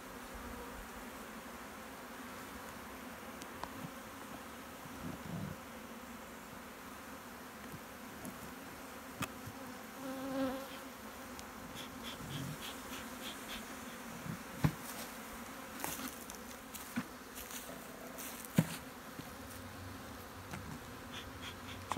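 A steady drone of many honeybees buzzing close by, with occasional louder passes and faint clicks.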